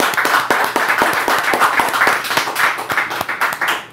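A small audience at a podcast taping claps for a former middleweight boxing champion in the room, a close, loud run of sharp, distinct handclaps in an uneven rhythm lasting a few seconds.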